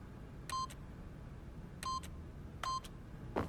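Keypad PIN entry beeps from The Stanley Parable sound as three evenly spaced electronic tones, each a short, clear pair of beeps, over quiet room tone, with a faint fourth blip at the end.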